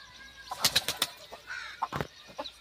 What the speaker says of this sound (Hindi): ये वाले कबूतर वहाँ पे चले गए हैं, इधर मशीन पे आ रहे हैं